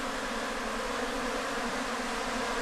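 Bees buzzing steadily during a hive transfer while beekeeping in Ghana, a close, continuous droning hum from many insects with no pauses and no voices.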